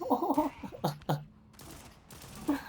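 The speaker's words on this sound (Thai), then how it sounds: "คือปืนลูกซองอ่ะนะครับ" A shotgun fires in the mobile first-person shooter Project RIP, giving a few sharp, separate blasts with short gaps between them, then a quieter stretch before another burst near the end. The shots are moderately loud against faint background noise.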